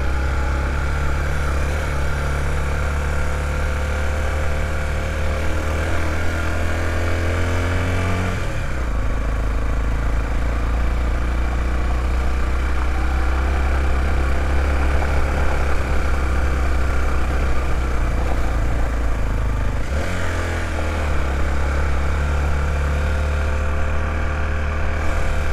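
A motorcycle engine labouring up a slippery muddy slope in Parque Salto Ventoso, Farroupilha, a steady loud drone with shifting pitch and two sharp changes in engine note, heard up close without talk.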